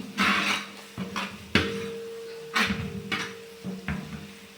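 A spoon stirs turmeric powder in a pan for lime pickle, giving a series of scraping strokes and sharp metallic clinks against the pan, close and moderately loud, with short pauses between strokes.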